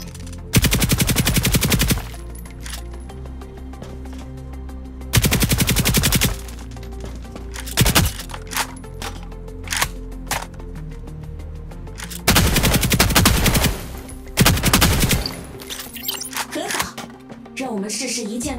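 Automatic gunfire in the mobile shooter game Hyper Front 2, with long loud bursts of rapid shots alternating with shorter pops and pauses, with a voice speaking between the bursts.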